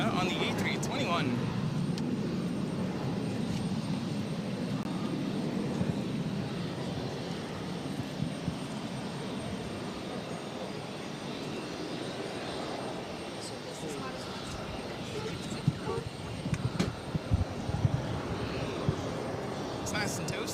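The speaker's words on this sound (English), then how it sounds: "This is Delta Airlines 376 taking off to Atlanta on the A321" A Delta Airlines Airbus A321 on its takeoff roll at Boston Logan, a steady, broad jet roar holding throughout at moderate distance, with faint voices nearby toward the end.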